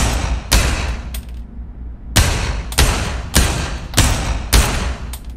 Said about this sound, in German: kann dann hier einfach schießen